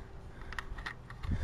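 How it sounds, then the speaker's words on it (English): A Honda car's fuel pump clicks in a quiet garage: a handful of faint, rapid ticks in an irregular burst, then a soft low thump near the end. "Fuel pump's just clicking back there like crazy."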